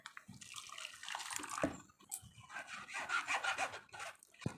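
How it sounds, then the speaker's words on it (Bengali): Watermelon juice being strained through a kitchen strainer, with close, uneven rubbing and scraping and watery swishing that rise and fall over a few seconds, plus a couple of sharper clinks. "এখন আমি একটা ছাঁকুনির সাহায্যে তরমুজের রসটাকে ছেঁকে নেব।"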